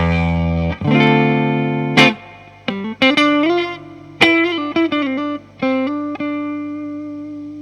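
Clean electric guitar chords and single notes from a 1990 Fender Strat Plus ring out through a Fender Deluxe Reverb reissue tube amp, with sustained tones, pauses between phrases and no talking.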